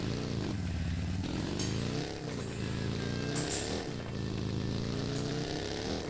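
A small farm vehicle's engine runs loudly and steadily up close, a continuous rough, throbbing drone with slight shifts in pitch and no pauses.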